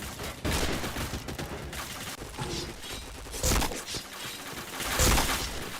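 Loud, rapid bursts of gunfire in the shooter video game Point Blank, with several heavy volleys and sharp impacts following one another closely.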